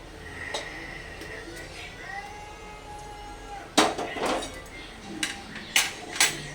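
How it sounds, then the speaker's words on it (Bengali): Jackfruit seed barfi mixture tipped from a pan onto a mustard-oiled plate, with scraping and clattering metal knocks growing louder toward the end, and a voice talking over the early part. "যেই থালাতে আমি সর্ষের তেলটা মাখিয়ে রেখেছি এই থালার মধ্যে আমি এটাকে এখন ঢেলে দেব"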